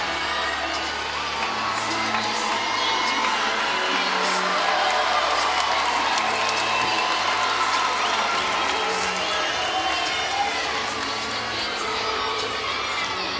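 Arena crowd applauding and cheering a 9.95 gymnastics floor score at a college meet, steady loud clapping mixed with whoops and shouts across the whole stretch.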